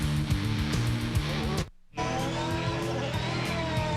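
Champ Car open-wheel race cars roar and whine at speed during the 2007 Mexico City Grand Prix, loud and continuous engine tones that cut out briefly before resuming.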